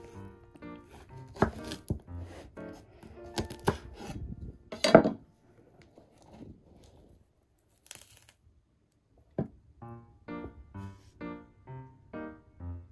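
A knife cuts through a green melon in a home kitchen, a few sharp crunching slices and board knocks, then a pause and a soft voice talking.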